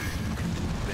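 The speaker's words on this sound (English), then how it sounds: "Did you airstrike him again?" An airstrike explodes in the co-op strategy game Dawn of War 2, a dense, continuous rumbling boom that fills the whole second at steady, heavy loudness.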